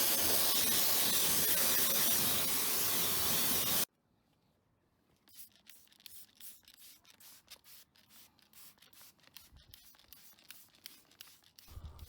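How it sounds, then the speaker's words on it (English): Autobrite Citrus Pre-Wash is sprayed onto the body of a BMW X5: a loud, steady broadband hiss for a few seconds, then a quieter stretch of rapid, repeated spray bursts. "I'm just spraying a bit of Autobrite Citrus Pre-Wash to the body of the car"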